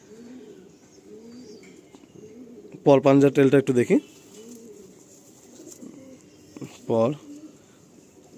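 Madrasi pigeons in a loft give a loud burst of rapid, bubbling coos close by, then a shorter coo a few seconds later, while someone talks and soft background cooing continues.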